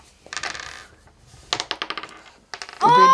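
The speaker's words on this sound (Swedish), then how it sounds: "Slå tärning först och vända upp kortet sen." A die clatters across a board several times in quick, bouncing bursts during a family board game, the LasseMajas mystery game, ending in a louder rattling tumble.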